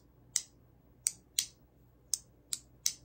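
Six sharp, crisp metallic clicks from an Umburry haptic coin fidget, spaced irregularly over quiet background, each a short bright snap.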